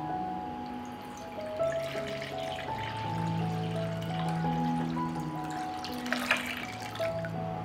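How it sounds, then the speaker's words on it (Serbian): Water pours steadily into a bowl for several seconds, with soft splashing over a quiet background of steady tones. "u jednu činiju sipat ću vodu"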